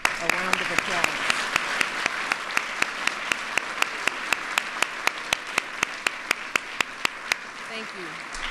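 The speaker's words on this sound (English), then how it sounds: "you should give yourselves a round of applause" Sustained applause from a large audience at a formal arts and humanities youth awards event, dense steady clapping with occasional sharper claps throughout, loud and continuous.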